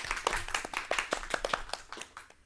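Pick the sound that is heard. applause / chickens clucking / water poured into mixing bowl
applause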